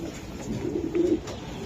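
Racing pigeons coo in a low, throaty warble that swells briefly at close range over a steady background murmur.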